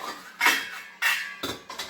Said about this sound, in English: I'm going to put a lid on it.